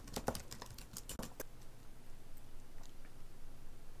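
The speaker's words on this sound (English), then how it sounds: "So now I'm going to type, what do you like to eat?" Rapid clicks of typing on a computer keyboard, a short burst of near keystrokes in the first second and a half, then a faint steady room hum.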